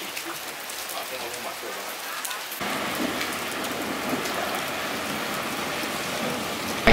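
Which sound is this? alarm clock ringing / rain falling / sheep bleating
rain falling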